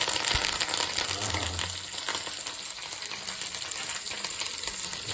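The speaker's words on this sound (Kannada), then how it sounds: "ಚೆನ್ನಾಗಿ ಕರಿಬೇವು ಹಾಕಿ, ಚೆನ್ನಾಗಿ ಈರುಳ್ಳಿ ಹಾಕ್ತೀನಿ." Curry leaves sizzling in hot oil for tempering, a dense, loud crackling hiss that runs steadily throughout with a few sharper pops, close up and with no voices.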